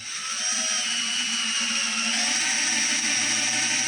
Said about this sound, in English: This is a 3/16 inch drill bit.